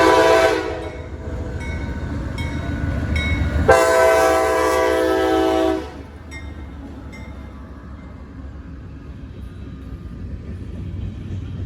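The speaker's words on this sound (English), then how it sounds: "Westbound train." A westbound freight train rumbles past nearby as its horn blasts loudly for a couple of seconds, then the horn stops and the steady rolling of the rail cars continues under a lower hum.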